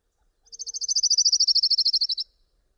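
Orange-crowned warbler song: a single rapid trill of about twenty evenly spaced clear notes, slightly descending in pitch, lasting under two seconds against a silent background.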